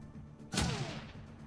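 A grenade going off in the turn-based Shadowrun Returns Dragonfall game, one short, muffled blast with a brief whooshing tail, moderately loud against a quiet background.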